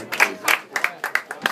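An audience at a live reading claps for Yuval Ben Ami, a loose, fairly close round of uneven hand claps.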